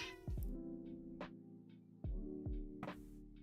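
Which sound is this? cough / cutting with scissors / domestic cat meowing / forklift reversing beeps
domestic cat meowing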